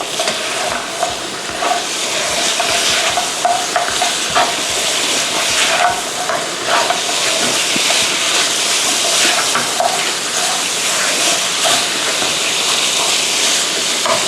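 Pork ribs stir-fried with lemongrass and kaffir lime leaves in a pan give a loud, steady sizzle. Frequent scraping and clattering strokes from the spatula break through it, and nobody speaks.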